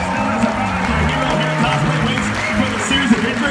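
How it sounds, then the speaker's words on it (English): Audience applause and cheering greet a judge entering a cosplay championship at New York Comic Con, with a steady crowd clapping wash and an announcer's voice talking over it. "Give her a big round of applause"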